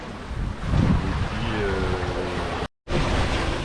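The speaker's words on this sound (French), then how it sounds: "On a du vent et de la mer." Strong wind buffets a sailboat crossing the Atlantic toward the Azores while rough sea waves wash and splash around it, a loud, continuous roaring rush with a brief dropout near the end.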